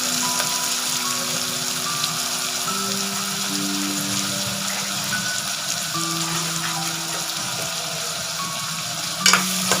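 Onions with chillies sautéing over low heat in a pan, a steady close sizzle and crackle running throughout with a brief clatter near the end; no one speaks.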